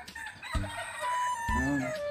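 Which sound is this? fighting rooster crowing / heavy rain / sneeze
fighting rooster crowing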